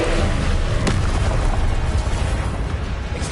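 Confringo blasting curses explode in Hogwarts Legacy: one loud booming blast near the start, then rumbling, crackling combat noise that slowly fades.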